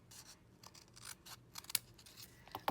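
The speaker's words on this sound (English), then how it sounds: "So we'll just trim that lower side there" Scissors snipping cardstock for a wreath, a series of short, quiet, close cuts and rustles with small pauses between them, no talking.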